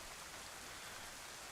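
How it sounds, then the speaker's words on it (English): Steady, even rain hisses in DayZ, a dense wash of patter across a survival game's outdoor setting, constant and moderately faint with no voices over it. "Ooh, that rain is gonna suck."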